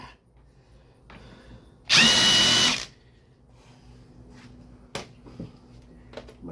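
An impact gun spins a nut during a Steeda lowering spring install, one loud, sharp burst lasting under a second, followed by quieter clicks and shop handling noises.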